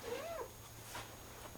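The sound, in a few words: shop cat meowing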